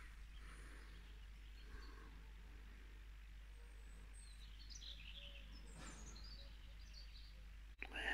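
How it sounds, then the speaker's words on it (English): Faint, scattered bird chirps and cheeps carry across quiet grounds beside water at a French chateau, distant and sparse over a soft outdoor hush. "Can you hear all the birds cheeping?"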